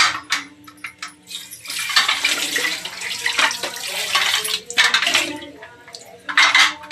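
Tap water running while a metal idli steamer vessel is washed in a kitchen sink, splashing in uneven bursts with clinks of the pot, close and moderately loud.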